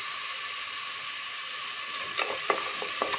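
Onions with salt frying in a pan give a steady, even hiss, joined near the end by a few light scrapes and taps of stirring; no speech.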